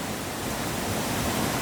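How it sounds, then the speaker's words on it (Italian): A stream runs through woodland near a small footbridge, giving a continuous soft hiss of rushing water, steady and fairly close, with no voices. "il mormorio dell'acqua"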